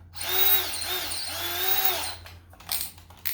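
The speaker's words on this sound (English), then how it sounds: "Do 2 holes, then we'll switch into the high performance battery." A Ridgid compact cordless brushless 18V drill driver whines steadily while boring a hole, its motor pitch dipping and rising under load before winding down, close and loud with no talking.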